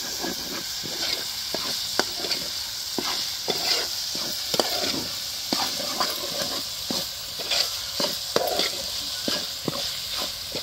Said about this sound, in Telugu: ఈ టమాటా కూడా వేసుకొని బాగా మగ్గిచ్చేసుకోవాలి